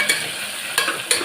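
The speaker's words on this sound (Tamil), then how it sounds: "வெங்காயம், பச்சை மிளகா எல்லாத்தையும் போட்டு வதக்கிடலாம்." Onions, garlic and green chilies being stirred and sautéed in a pan for mango rice, with three brief scraping stir strokes over a soft, steady sizzle, close and fairly quiet.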